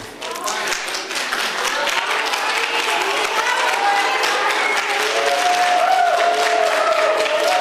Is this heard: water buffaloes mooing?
no